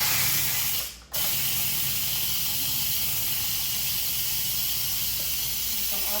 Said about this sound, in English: I'm going to give this a quick release.